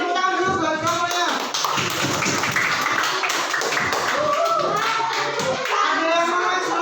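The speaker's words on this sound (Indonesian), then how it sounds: "Beri tepuk tangan dulu buat kamu ya." Children in a primary school classroom clap their hands in a steady, dense round of applause that lasts several seconds, with scattered voices mixed in.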